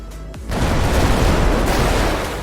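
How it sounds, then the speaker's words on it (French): A loud, sustained explosive roar in GTA V with a FiveM graphics pack bursts in after a brief quieter moment and rumbles on heavily to the end. "le bruit des explosions, il est totalement différent"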